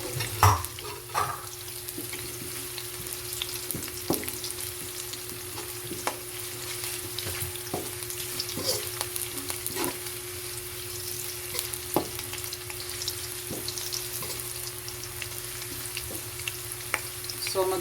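Ginger frying in oil for sweet and sour tilapia, a continuous soft sizzle punctuated by regular sharp clicks of a utensil stirring the pan, with no speech.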